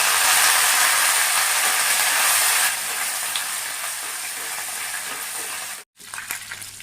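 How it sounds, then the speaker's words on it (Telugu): Chana dal and curry leaves crackle and sizzle loudly in hot oil in a pan during tempering for an egg garlic roast. The frying is close and continuous, eases slightly, then drops out for a moment before sizzling again. "ఇలా పోపు కొంచెం కలర్ వచ్చేంత వరకు వేయించుకోవాలండి"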